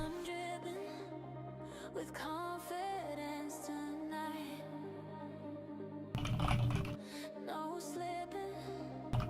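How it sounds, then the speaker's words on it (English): Computer keyboard typing during a live futures day-trading stream, with scattered key clicks blended into a dense bed of background music and other sound, fairly faint and irregular rather than steady. "No more typing."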